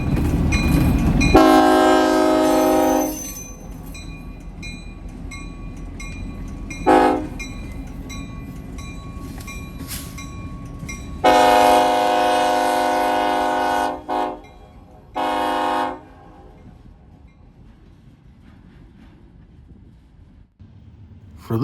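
Freight train led by locomotive 6315 hauling a single covered hopper, its horn sounding in several loud blasts, long and short, over the steady low rumble and rolling clatter of the passing train.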